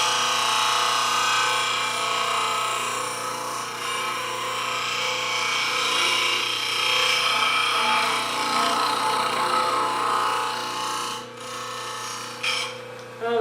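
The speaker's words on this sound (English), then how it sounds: "so as I sharpen this, I'm essentially putting a double bevel on it." A wood turning scraper being sharpened on a bench grinder with a sharpening jig gives a steady, fairly loud grinding hiss with a constant motor hum underneath, running continuously with only a brief dip near the end and no talk.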